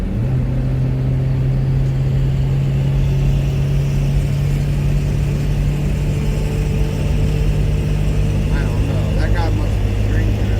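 A car's engine drones loud and close from inside the vehicle as it speeds up to overtake another on a road trip from California to Arizona, a steady mid-pitched hum with a continuous low rumble.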